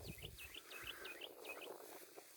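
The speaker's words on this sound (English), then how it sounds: "You hear the birds singing." Birds sing in a soft outdoor setting, with repeated high, swooping whistled notes over a faint low background hum.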